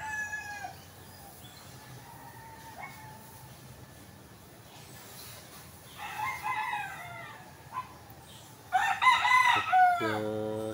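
Backyard chickens kept among bamboo, with quiet background ambience and scattered clucks building to a loud, close rooster crow near the end, and a few faint bark-like calls mixed in.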